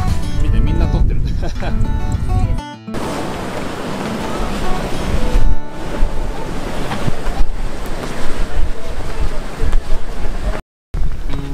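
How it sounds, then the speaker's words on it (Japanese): Strong wind and high ocean surf on a Mexican coast roar continuously, with heavy wind buffeting the microphone and crashing waves close by, briefly cut off by a couple of short gaps. "風が強すぎて、多分波も高いし"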